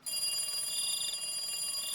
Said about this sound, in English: After a while, I finally realized the phone's ringing, and ringing phone means there's some kind of emergency.